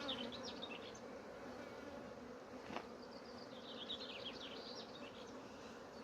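Honeybees at an open Dadant hive frame make a dense, continuous buzzing swarm drone close by. Individual bees whir past now and then, and a short knock comes midway.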